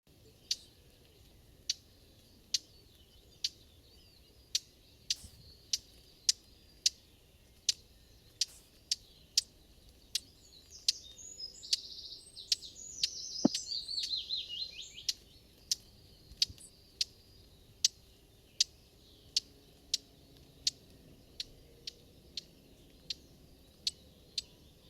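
Common whitethroat giving its call, a bird with a lead-grey head and cold brown back: a long series of regular, sharp tick notes repeating about twice a second, fairly close, with a brief burst of chatter midway.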